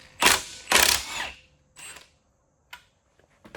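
A 1/2-inch socket on a 24-inch breaker bar loosening a camshaft bolt on an SR20DET engine, with two loud close cracking bursts, a softer third, then a few faint metallic clicks in near silence.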